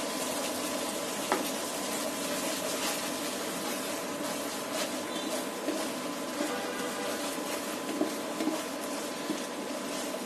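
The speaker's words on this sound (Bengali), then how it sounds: "এখন আবার একটু কষিয়ে নেব।" Curry sautéing in a pan with salt added gives a steady, close sizzle and soft bubbling that runs evenly throughout, with a few faint clicks and no talking.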